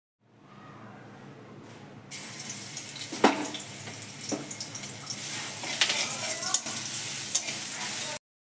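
Leafy greens sautéing and being turned in hot oil in a wok, with a steady hiss that swells into loud, continuous sizzling, and a few clanks of the utensil against the pan.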